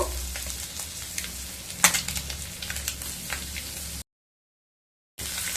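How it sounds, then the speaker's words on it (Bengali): Eggs fry in hot oil with a close, steady crackling sizzle and a sharper spatter burst early on. The sound cuts out for about a second, then resumes. "তেলটা গরম হয়ে গেলে ডিমগুলোকে ভেজে নেব"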